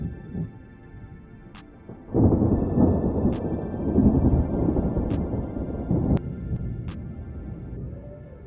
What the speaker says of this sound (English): Thunder and lightning from the cloudy sky.